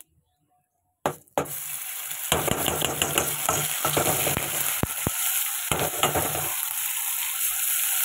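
Spice paste sizzles in hot oil tempered with cumin seeds and bay leaf, starting abruptly after a brief silence, then a steady close frying hiss with scraping stirs and clinks throughout.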